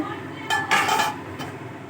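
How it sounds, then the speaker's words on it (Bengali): A lid comes off a cooking pot of sukta, an Indian vegetable dish, giving a brief metallic clank and clink at close range over a quiet kitchen background. "এবার আমি ঢাকনা খুলে নিচ্ছি।"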